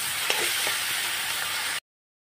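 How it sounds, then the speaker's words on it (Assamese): Steady, close sizzling of chicken frying in a pan with a few faint scrapes, then it cuts off abruptly into silence. "মাংসখিনি খুব ধুনীয়াকৈ ভাজি ল'লোঁ"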